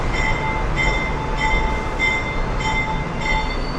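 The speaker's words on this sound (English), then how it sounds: "And we got a D train coming in." A New York subway D train pulls into 9th Avenue station in Brooklyn, a loud steady rumble of wheels on rails with high metallic squealing tones repeating at regular intervals, close by and without voices.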